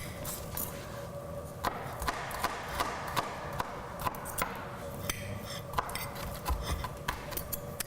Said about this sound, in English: I'm going to mince a little bit of garlic into this